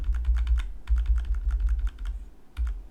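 Rapid keystrokes clatter on a computer keyboard while shaping a design in Corel Draw, clustered in quick bursts with short gaps, close and clear without speech.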